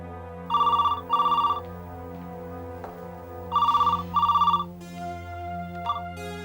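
A telephone ringing in a home scene of a TV serial, two paired bursts of bright electronic trills separated by a pause, loud and clear over a sustained background music drone.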